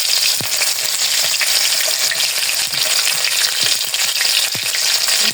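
Five-spice seeds and chopped green chili crackle in hot oil with a loud, dense sizzle, broken by scattered pops and light stirring taps throughout, with no voices.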